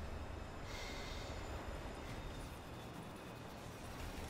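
A train rolling past in the Destiny 2 video game, a steady dense rumble with faint rail clatter filling the whole stretch at constant loudness, no talk.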